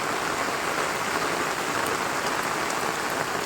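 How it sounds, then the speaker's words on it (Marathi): Torrential monsoon rain in a Konkan village, a loud, unbroken wash of drops hammering surfaces nearby, heard alone. "खूप पाऊस आहे."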